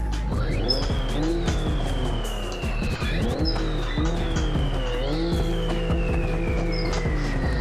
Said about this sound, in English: One of my favorite things about this game, besides the crash physics, is the engine sounds